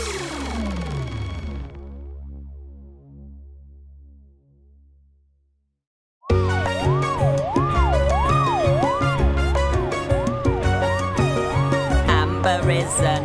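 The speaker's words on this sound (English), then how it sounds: "Amber has a siren to warn us when she's" Cartoon ambulance siren from a children's animated show, a wavering wailing tone rising and falling in steady cycles over bright background music, loud and close, following a fading musical passage and a brief silence.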